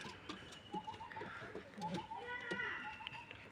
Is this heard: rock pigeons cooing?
yes